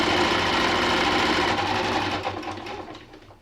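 A sewing machine stitches fabric for a bubble quilt, its motor running in a steady, close whirring drone that holds and then eases and fades toward the end, with no talk.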